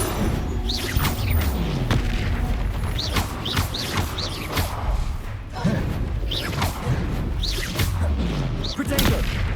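Bombarda and Confringo blast spells in Hogwarts Legacy land as a dense run of booming impacts and whooshes over a constant loud rumble of combat, with a voice calling out spell names throughout.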